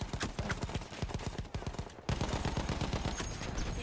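Rapid bursts of machine gun fire in the Battlefield 1 video game, rattling in fast rhythmic volleys with a short pause, then continuing at steady loudness.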